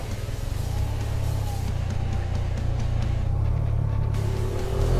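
Busy city traffic surrounds a Yamaha TMAX scooter as it rides, with a steady low engine rumble and passing cars and motorbikes blending into a continuous, moderately loud wash with no talk.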